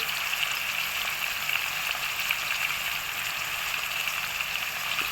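Boiled potatoes fry in a pan with salt and turmeric, making a steady, moderate sizzle and crackle that holds evenly from start to finish with no voices.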